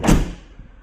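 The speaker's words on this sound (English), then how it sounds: "I'll close this door." A 2022 Kia Carnival minivan door shuts with a single solid thud close by, then quickly fades to quiet.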